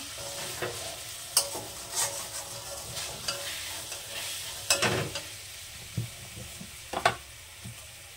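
Paneer fries lightly in a pan, a faint sizzle under intermittent scraping and knocking as a spatula stirs the pieces, with no talking.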